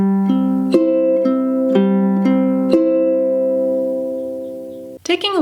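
A ukulele plays the strumming pattern for a song at song tempo, evenly spaced strums ringing in a steady rhythm, close and clear, ending with a brief scrape.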